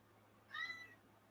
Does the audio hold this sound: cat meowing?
yes